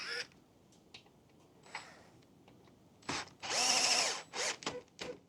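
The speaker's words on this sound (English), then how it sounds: "With the optional drill and bit," A power drill drives bolts into a chaise lounge chair during assembly, with a few short clicks and then loud whirring bursts in close succession near the end, no talking.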